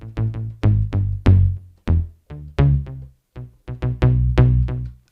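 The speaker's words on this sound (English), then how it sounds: "So it's like a synth bass." A Dr. Rhythm drum machine's synth bass sounds in a rhythmic run of about a dozen percussive, buzzy low notes of varying length, loud and close, with no voices.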